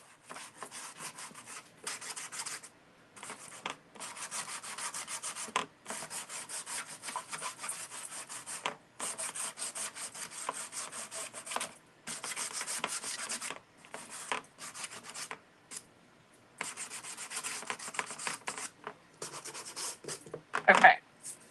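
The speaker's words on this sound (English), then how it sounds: "let's take our sander and we're just going to go over and just give this a sand" An electric sander working over a wooden sign, broad raspy rubbing in repeated passes of a few seconds each, broken by short pauses, fairly close and steady, with a brief louder knock near the end.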